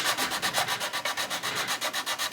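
A sanding stick rubs back and forth across the plastic hull of a 1/350 USS Missouri BB-63 model ship, giving an even run of about fifteen quick, rhythmic scratchy strokes, close and steady with no voices.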